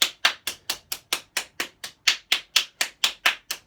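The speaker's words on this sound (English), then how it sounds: "Clap your hands together a few times." One person claps bare hands together during a yin yoga session, about fifteen sharp, close claps in a steady, even rhythm with clean silence between each.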